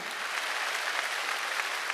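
An audience claps at an evangelistic rally in Jeonju Indoor Gymnasium, a dense, steady, crackling applause from a large crowd filling the hall, even in loudness from start to end.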